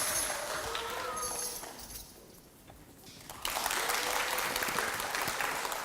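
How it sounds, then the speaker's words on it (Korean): A concert-hall audience at a children's composer recital applauds steadily to welcome a young composer. The clapping thins briefly midway, then swells back louder and fuller, with no voices over it. "큰 박수로 맞이하겠습니다"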